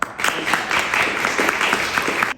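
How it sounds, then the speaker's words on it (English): Dense applause fills a room for the Garifuna community at a heritage event, loud and close, many hands clapping together in a continuous wash for a couple of seconds. "Let's give the Garifuna community a big round of applause"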